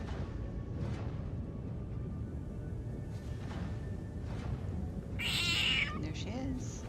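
A small kitten gives a short, high meow near the end, faint against a quiet room with soft background hum, while a person talks softly.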